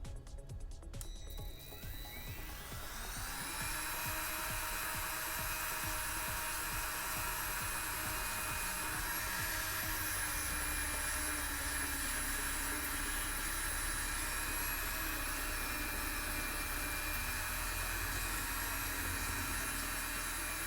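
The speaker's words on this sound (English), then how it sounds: "I'm going to use the Dremel tool" A Dremel rotary tool smooths a costume armor codpiece, its high steady whine spinning up within the first couple of seconds and then running loud and continuous, close by.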